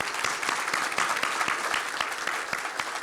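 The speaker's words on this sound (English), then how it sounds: "let's give them a round of applause as well" An audience claps steadily at a school attendance initiative launch, a dense, even round of applause throughout with no voices over it.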